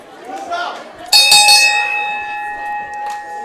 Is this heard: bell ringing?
yes